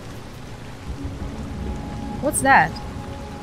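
Steady rain falls in the video game Detroit: Become Human, a soft continuous hiss, while a person speaks briefly near the end over it.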